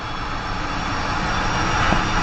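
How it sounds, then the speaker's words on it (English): An F-5 jet engine runs in DCS during its start sequence, giving a loud, steady roar and whine that holds constant throughout without a break. "waiting as the engine comes online, making sure that that generator kicks in and we've got a good crossover"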